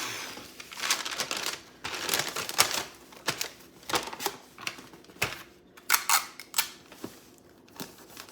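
Scissors snip and slide through wrapping paper in a run of crisp, close cuts with crinkling rustles between them, fairly quiet and without talk.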